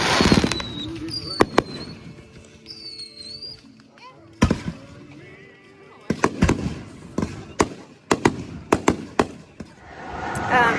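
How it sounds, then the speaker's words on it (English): A 30-minute outdoor fireworks display bursts in a scattered series of sharp bangs and crackles, some close and loud, others fainter, with whistles and crowd noise between. "we headed to Bird City to watch fireworks. And they had an amazing 30-minute display"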